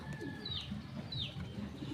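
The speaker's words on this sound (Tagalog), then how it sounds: "Napakain na din pala natin yung mga kalapati natin." Soft, low pigeon cooing repeats over a steady outdoor murmur, with a couple of faint higher bird chirps.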